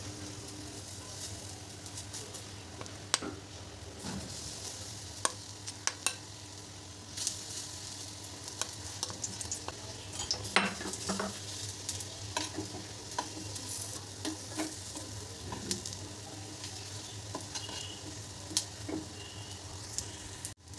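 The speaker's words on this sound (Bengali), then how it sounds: "বড়াগুলো সাদা তেলে ভাজবো।" Siuli (night jasmine) leaf fritters frying one by one in hot white oil, giving a steady close crackling sizzle with occasional sharper pops and spits throughout, and no talking.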